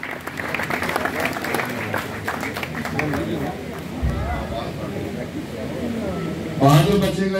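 Crowd applause fills a prize distribution ceremony for a pigeon-flying competition, with a voice speaking over the clapping throughout and a louder burst of cheering near the end.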